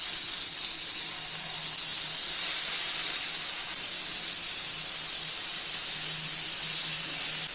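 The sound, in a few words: fish tikka frying on medium flame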